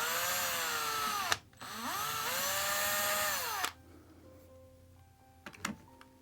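A power drill boring into a tubular lock: a loud, steady high-pitched whine that briefly cuts out, resumes, then stops, leaving a quiet room with a few small metallic clicks.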